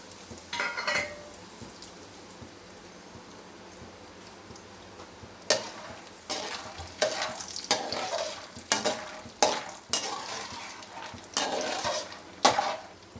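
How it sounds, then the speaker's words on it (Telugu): Peanuts, curry leaves and sliced green chillies fry in oil. A faint hiss is followed by a run of sharp clattering stirs against the pan, loud and close, with no voices. "ఇప్పుడు ఈ మూడు మనం నూనెలో వేయించుకుందాం"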